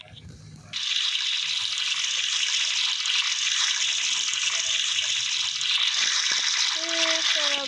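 Water gushes from a tap while someone takes a bath, starting abruptly after a brief moment of quiet and then running as a steady, close hiss with faint background sounds near the end.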